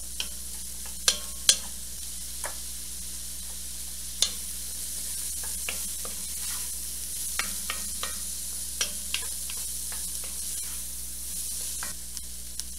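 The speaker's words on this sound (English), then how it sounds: "I'm going to let that fragrant so I can smell the garlic" Garlic sizzles in a pot as the base for homemade chicken noodle soup: a steady, close frying hiss with scattered sharp clicks and taps of a stirring utensil against the pot.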